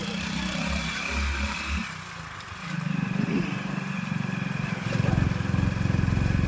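A motorcycle engine runs close by at a roadside viewpoint near Kemmangundi, a steady low drone under wind that grows louder and rougher partway through, with no talk.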